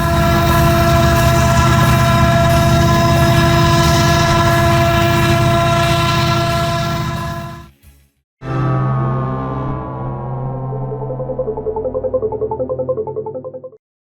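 A loud diesel train of SD40 locomotives rumbles past steadily in Saltillo, Mexico, then after a brief gap a long multi-tone horn blares with a lower drone beneath, fading near the end.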